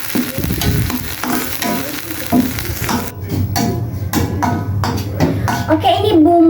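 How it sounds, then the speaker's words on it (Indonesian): Spice paste sautéing in a pan with steady stirring and a continuous close sizzle, broken by scraping strokes, while a voice murmurs faintly in the background. "Oke, kita lanjut ke menumis bumbunya."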